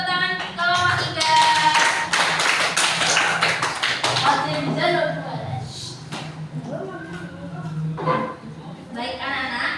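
Schoolchildren in a classroom clap for group 3, rhythmic, close hand claps mixed with chatter and voices, loudest early and tapering into scattered claps and talk.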